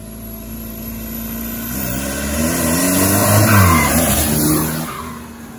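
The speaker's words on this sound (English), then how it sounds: "Just some very easy second gear pulls." Barn-find Volkswagen Caddy pickup with a turbocharged TDI diesel swap making an easy second-gear boost pull, the engine note rising steadily and growing louder before easing off near the end.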